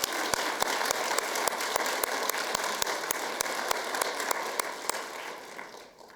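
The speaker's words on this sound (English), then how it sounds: "Let's give them a round of applause." A conference audience breaks into a steady round of applause, dense clapping filling the room at full strength and easing off slightly toward the end.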